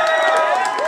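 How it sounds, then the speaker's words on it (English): A crowd cheers and applauds for a ukulele player at a band's closing set, a dense, steady roar of clapping and voices with whoops rising over it throughout the short moment. "Applause for our ukulele player."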